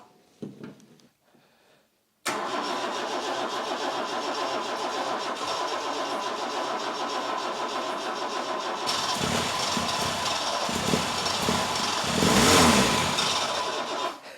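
A Vauxhall Chevette engine, left abandoned for over ten years and under restoration, cranks and catches, then runs steadily with the throttle open. It sounds close and loud and rises toward a rev near the end.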